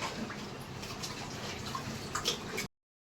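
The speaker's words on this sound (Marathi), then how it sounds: "तांदूळ आता स्वच्छ धुवून घेऊ." Rice being rinsed in water by hand in a home kitchen, a steady wet sloshing and trickling with small splashes, close and continuous for a few seconds before stopping abruptly.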